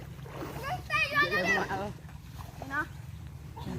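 Children splash and play in water while their voices and an adult's voice carry over the steady background, the splashing lively but partly under the talk.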